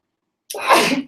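A single sharp human sneeze bursts out after a moment of silence, close and loud, then fades quickly.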